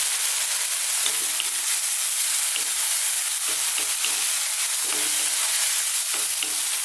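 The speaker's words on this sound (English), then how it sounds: "we're going to cook this again on this high heat, 2 to 3 more minutes, stirring all the time" Chicken fried rice with soy sauce stir-fried in a wok over high heat, a steady loud sizzle broken by repeated scraping and tossing sounds every second or so.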